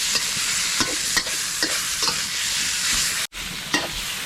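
Pork belly frying over high heat to render its fat: a loud, steady close-up sizzle broken by occasional stirring scrapes and one brief dropout.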